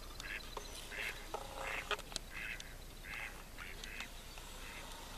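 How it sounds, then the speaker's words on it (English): Ducks on a log in the Adirondack wilderness quack in repeated short bursts at moderate distance over steady outdoor background noise. "There's some ducks on that log over there."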